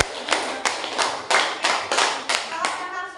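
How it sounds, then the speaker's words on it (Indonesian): A class of students claps together in a quick, fairly steady rhythm, about eight sharp bursts of hand claps in three seconds, close and lively. "tepuk tangan dong untuk semuanya."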